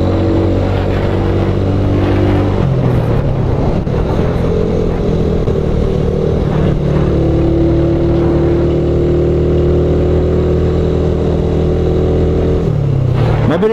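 A motorcycle engine drones loudly and close while riding, revs rising and falling in a few swells across a sustained rumble, with no talking over it.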